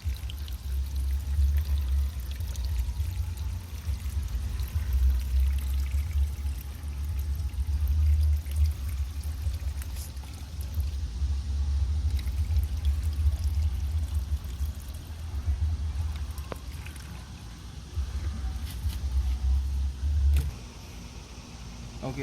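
Coolant being poured into a motorcycle radiator through a makeshift small funnel, a steady low gurgling pour that runs continuously for about twenty seconds with a faint background hum and no talk.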